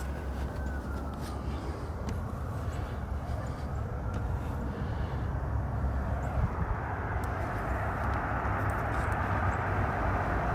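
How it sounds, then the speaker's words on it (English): Steady loud road noise from passing traffic, a continuous broadband rumble and roar throughout with no breaks, close to the microphone while working outdoors on a ladder. "Sorry for the road noise here."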